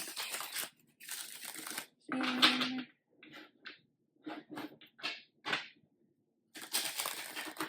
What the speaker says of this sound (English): gonna shuffle the deck.